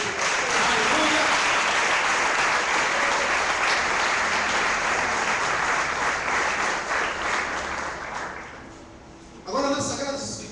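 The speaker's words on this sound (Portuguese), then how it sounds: "Você pode aplaudir o Senhor por isso?" A church congregation applauds loudly and steadily during a family campaign service, with the dense clapping tapering off near the end as a voice briefly speaks over it.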